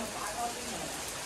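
Rain falls steadily on Vinayaka Chavithi festival day, a soft continuous hiss filling the brief moment, with a voice faintly present underneath.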